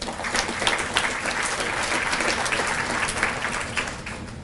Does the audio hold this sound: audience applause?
yes